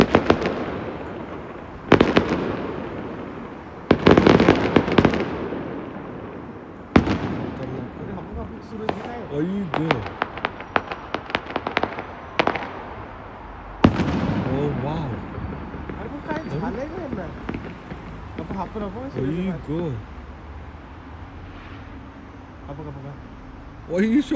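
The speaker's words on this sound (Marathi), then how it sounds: "जबरदस्त खतरनाक फटाकडे." A city fireworks night display in Brighton, with loud booms and sharp crackling bursts in irregular clusters, some close and some echoing farther off, while people talk and cheer between the blasts.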